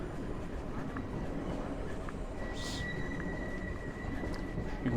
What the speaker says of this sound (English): You can probably hear the trains now.